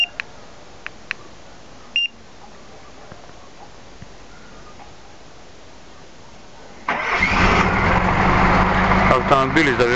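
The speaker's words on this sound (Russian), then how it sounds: "Автомобиль завелся" A few faint car alarm beeps, then a car engine cranks and catches on remote autostart, settling into a steady, loud idle that continues to the end.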